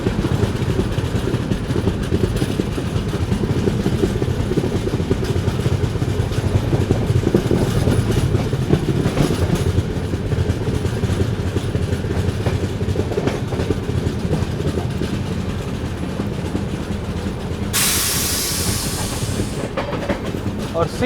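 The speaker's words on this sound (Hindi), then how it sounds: "देखिए ट्रेन अपनी जो है अभी उस लाइन पे आ रही है।" The 20806 Andhra Pradesh SF Express, running New Delhi to Visakhapatnam, passes Sevagram Junction without stopping. It makes a loud, continuous rumble with steady clickety-clack of wheels over rail joints for the whole stretch.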